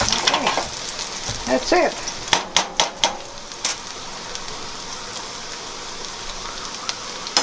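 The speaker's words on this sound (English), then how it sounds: "Let them fry until they're done." Potato pancakes fry in a pan in a Belarusian home kitchen with a steady sizzling hiss, broken by a few sharp clinks of a utensil against the pan; a voice speaks briefly near the start.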